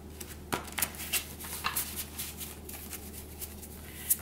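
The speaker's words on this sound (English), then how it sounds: "let's do a little shuffle" Tarot cards being shuffled by hand at a quiet table, a series of soft, crisp riffling flutters and light snaps coming in irregular bursts, close to the mic with no speech over them.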